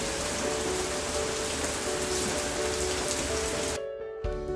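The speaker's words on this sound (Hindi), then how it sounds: "कितनी तेज़ हो रही है बारिश।" Heavy monsoon rain pours steadily onto surfaces in an Indian home setting, a dense, loud hiss that runs continuously before cutting off abruptly near the end.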